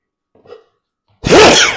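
A single loud, explosive sneeze bursts out after a faint sharp intake of breath, close to the listener.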